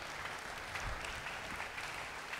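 A congregation applauding in a church, a continuous, even patter of clapping from many hands heard faintly at a distance without speech.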